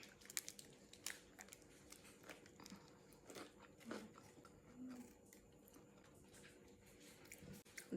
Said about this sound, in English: The crunch of the pickle.